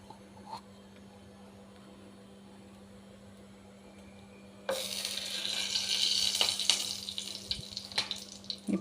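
Ghee hitting a hot pan bursts into a loud, steady sizzle partway through, after a stretch of quiet low hum, and the crackle holds to the end.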